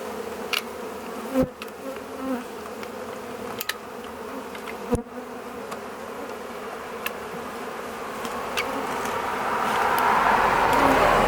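A dense, continuous hum of bees buzzing nearby around a tree in Millbury, Massachusetts, with a few sharp clicks and a rising rush of noise toward the end.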